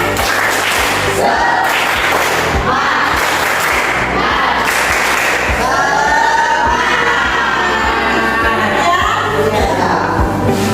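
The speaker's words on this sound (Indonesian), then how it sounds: "kita beri tepuk semangat" A crowd claps rhythmically in loud, dense bursts, with cheering and children's voices shouting over the applause for several seconds.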